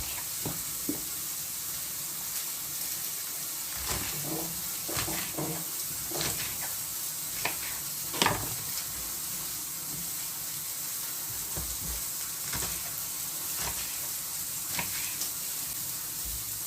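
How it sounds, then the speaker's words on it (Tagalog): Chicken fries in a pan, a steady sizzle with scattered crackles and pops close by, running throughout without any talking. "Fry both sides for 2 minutes. While waiting for my chicken"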